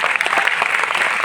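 A group of people claps their hands at a gathering, the sharp crackling clapping dense and continuous and close by, with faint voices mixed underneath.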